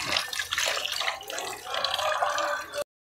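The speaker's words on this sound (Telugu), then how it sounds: "ముందుగా రొయ్యలు అయితే శుభ్రంగా కడుక్కోవాలి." Prawns being washed by hand in water, with steady splashing and dripping from a tap or sink, close and continuous for about three seconds before cutting off.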